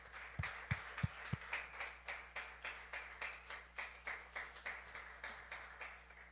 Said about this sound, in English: Give the Lord a hand clap of praise wherever you are.